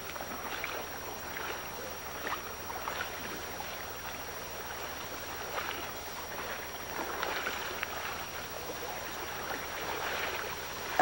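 Someone wades across a salmon river below the Nimbus Dam on the American River, stepping over slippery rocks. Close splashing and swishing water runs continuously over a steady rushing flow, with no talking.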